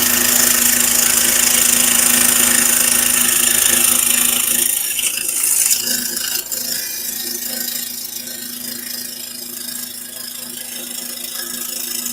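A saw running in a woodworking shop: a loud, steady mechanical roar and whine that drops to a lower, quieter hum partway through, with no voices.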